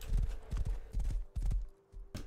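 A horse's hooves clip-clop in quick, uneven bursts of loud, close thuds in the survival video game Rust, with brief pauses between the groups of steps.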